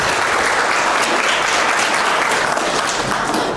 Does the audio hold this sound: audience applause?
yes